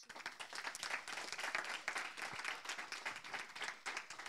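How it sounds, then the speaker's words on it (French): A small audience applauds, steady clapping from a modest crowd at moderate distance. "On les applaudit."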